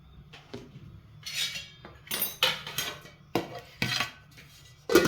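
Metal kitchenware clanks and scrapes in a series of sharp bursts while cooking ugali, ending with a pot lid clattering down onto a pan.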